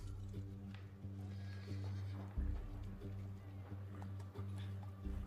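A horse in a Walking Dead episode gives a whinny among hoof clip-clops and other show sounds, heard at moderate level with a viewer talking over parts of it.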